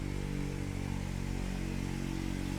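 Steady, loud road traffic noise rolling past a front yard ornamental garden at the end of August, a continuous engine drone and rumble with no pauses and no speech.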